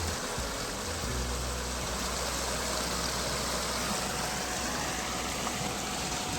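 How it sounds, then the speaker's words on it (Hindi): Water rushes fast through open barrage gates on the Narmada river, a steady, dense roaring wash with low rumble underneath, continuous and fairly close, with no talk. "यहाँ से पानी जो है बहुत स्पीड से आ रहा है"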